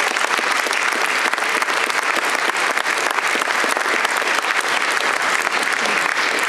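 A crowd claps warmly in tribute to Max Steinberg at the opening of the King David Campus in Liverpool, a dense, sustained ovation of many hands that carries on evenly for several seconds with no one speaking.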